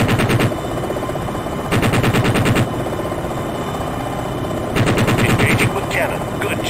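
Helicopter cannon fire in Jane's Longbow, a Longbow Apache game, three loud rapid bursts of close automatic shots separated by engine drone and brief pauses.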